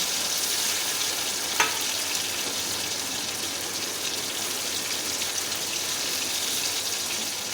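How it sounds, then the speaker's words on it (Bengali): Chhana (cottage cheese) fritters frying in oil in a kadai, a steady dense hiss and crackle that holds evenly throughout, close and unbroken, with one small clink early on. "ছানার বড়াটা তেলে দিয়ে দিলাম।"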